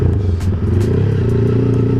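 A motorcycle fitted with a newly installed, still untuned mini carburetor idles close by, a steady low rumble with a light mechanical clatter, the throttle left alone.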